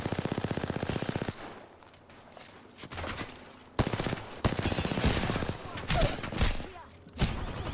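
Video game gunfire: a rapid burst of automatic fire opens, followed by scattered loud shots and bursts, mixed with game effects and brief talk.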